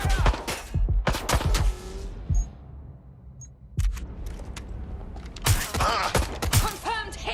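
Gunfire in Watch Dogs Legion, with sharp bursts of shots in clusters, a quieter lull in the middle, then more heavy volleys near the end, close and loud.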